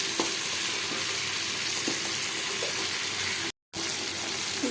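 Ivy gourd (kunduri) fries in oil in a pan over a low gas flame, giving a steady, close sizzle with occasional light scrapes and taps from stirring and a very short break in the sound.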